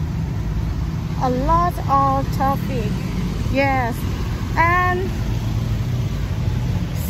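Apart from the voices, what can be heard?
road traffic, cars passing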